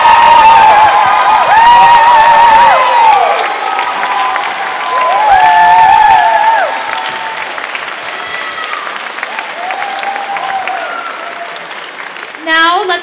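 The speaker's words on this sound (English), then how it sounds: "please stand and let's all give them a warm round of applause." A large crowd applauds loudly and steadily, with occasional whoops and cheers rising above the clapping before it tapers off.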